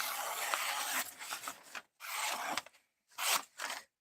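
A knife blade drawn across sandpaper backed with cardboard: three bursts of gritty rasping strokes, close and clear, with brief silent gaps between passes.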